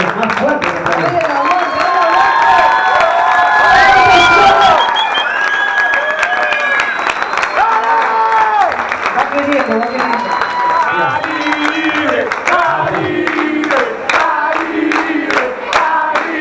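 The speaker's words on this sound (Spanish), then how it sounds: "A ver ese aplauso fuerte. ¡Fuerte!" A live audience at a show claps hard and cheers, loud sustained applause with whoops and shouts over a carrying amplified voice, the noise swelling and holding across the whole stretch.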